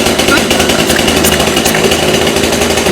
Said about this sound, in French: la tronçonneuse, comment c'est puissant